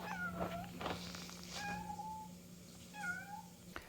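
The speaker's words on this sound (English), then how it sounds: "He will meow a lot when he realizes that Irene and I aren't home." A house cat left alone at home meows several times, drawn-out rising and falling cries in clusters, close and moderately loud over a steady low electrical hum.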